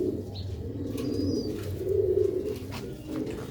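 Black-faced pigeons coo softly in a low, steady murmur close by, with a faint chirp or two over a hushed background.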